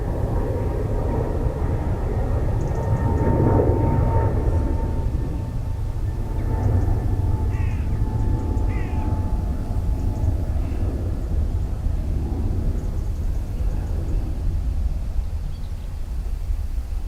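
An Airbus A321neo jet takes off from Dublin Airport, with a steady, loud broadband engine roar that holds through the whole stretch, faint bird chirps above it and no talk.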